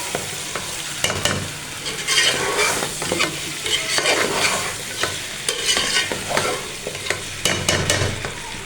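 Taro (arbi) is stirred into a sizzling pot of spiced aubergine curry, with repeated scraping and clattering spoon strokes in an irregular rhythm over a constant frying hiss, loud and close.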